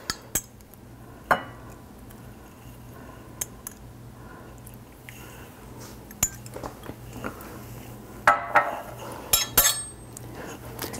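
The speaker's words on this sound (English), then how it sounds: "I'll stir that to dissolve the gelatin" A spoon stirs a teaspoon of gelatin in a tablespoon of water and two tablespoons of boiling water, dissolving it in a small dish. It gives faint, scattered clinks and taps against the container with a few louder knocks near the end.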